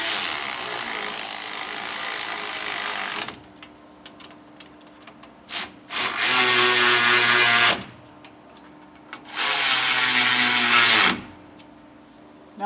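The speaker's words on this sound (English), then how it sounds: "Now I'm just going to go by with my ratchet and just snug each one of these down" A ratchet snugs down bolts on a MORryde X-Factor crossmember under a 2023 Palomino Puma Unleashed trailer, giving three long, loud whirring bursts separated by short clicks and quiet gaps.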